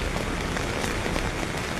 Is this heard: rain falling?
yes